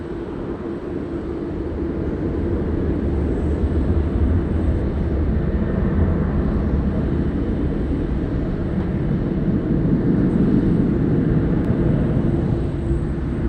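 An airliner takes off from runway 16 right at Sydney Airport, its jet engines a steady, loud broadband roar with deep rumble that swells slightly and holds throughout.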